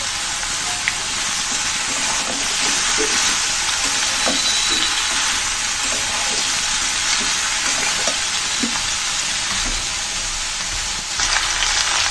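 Chopped bottle gourd and green chillies sizzle loudly in hot oil alongside browned potatoes, a dense steady frying hiss with light stirring taps, close and without speech.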